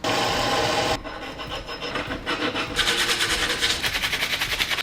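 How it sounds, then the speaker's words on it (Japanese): A hand file rasps across metal to take burrs off a homemade anchor winch part for a small two-horsepower boat, a steady scraping that settles into rhythmic back-and-forth strokes. "バリの方を削っていきたいと思います"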